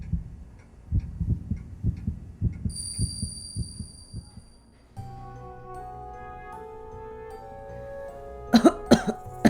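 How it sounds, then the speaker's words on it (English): A person in pain coughing in the game Spirit Hunter: NG, a run of short, muffled rhythmic coughs up close, followed by a sustained synth tone and a few sharp clatters at the end. "I hear coughing sounds."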